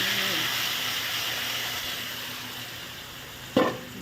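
Marinated pork belly stir-frying in a hot wok with browned garlic for braised pork belly with eggs: a loud, steady close-up sizzle and hiss, with one sharp clank of the pan near the end.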